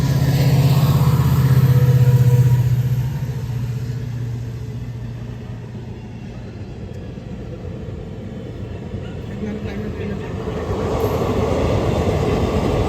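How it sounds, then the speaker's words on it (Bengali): A train rolling past a level crossing while traffic waits, a loud continuous rumble and rattle of wagons close by, steady throughout with a rise near the end, no talking. "আহে ট্রেন পার হবে তার কারণে রখাই রাখেছে আমাদেরকে"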